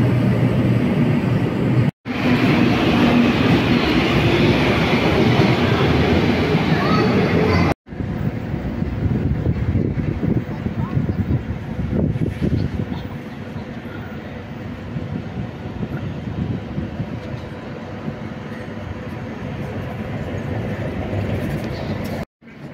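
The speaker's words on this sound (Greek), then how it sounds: "Και μέσα στο μετρό για κέντρο." Helsinki metro train in motion, heard from inside the car as a steady loud rumble and rushing noise that shifts after a brief cut and settles into a lower, continuous roll.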